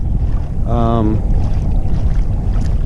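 A Hobie kayak out on the water off New Jersey during a flounder fishing trip, heard as steady rushing water and wind noise close to the microphone, with a short burst of voice partway through.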